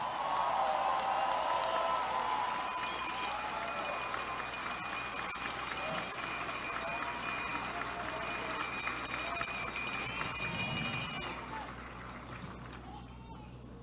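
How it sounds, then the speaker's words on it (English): Crowd applause at a live press event, a dense, steady wash of clapping that holds for about eleven seconds and then fades away. "Give them a hand, give them a round of applause."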